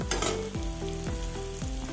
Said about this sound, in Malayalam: ഉള്ളിയും കറിവേപ്പിലയും പച്ചമുളകെല്ലാം ഒന്ന് മൂത്ത് വന്ന്